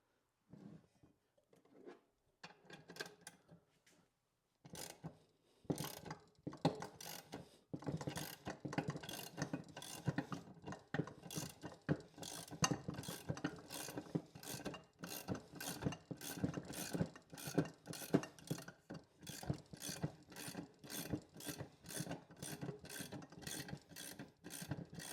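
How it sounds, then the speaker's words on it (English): Case splitter tool slowly cranked to open the engine case of a 1983 Honda FL-250, giving a run of close, sharp ratcheting clicks in a steady rhythm that starts sparse, pauses, then keeps going alone for many seconds. "So the case splitter worked pretty well."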